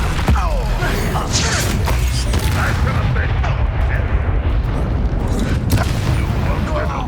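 Fire-spell explosions rumble from a Confringo cast in the video game Hogwarts Legacy, a dense, loud roar of booms and crackles running throughout, with a voice speaking over the blasts.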